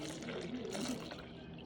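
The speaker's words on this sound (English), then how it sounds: "So now let's just go ahead and take the water and pour it on in." Water poured from a bottle into a container for sprouting garlic, a short steady splashing trickle at close range, fairly soft.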